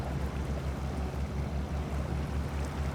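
Land Rover Defender 90 off-road vehicle in the Snowrunner video game churning through water, a continuous rumbling engine drone under steady splashing and sloshing, close and even throughout with no talking.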